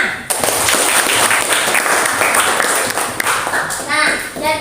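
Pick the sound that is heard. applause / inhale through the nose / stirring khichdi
applause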